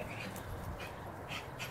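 A dog in a yard with a new fence, panting softly and letting out faint high whimpers at intervals over a steady background hum.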